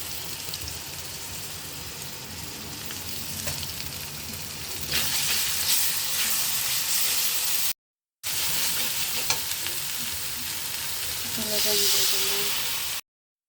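Stinging catfish being sautéed in spices in a pan, a loud continuous sizzle and hiss that swells partway through, with stirring scrapes and a brief silent gap.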